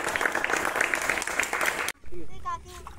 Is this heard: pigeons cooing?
no